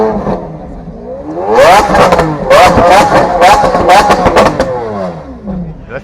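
Lamborghini Aventador exhaust with valves open, loud sharp revs and rising engine wails in bursts near the listener, with excited voices talking over it.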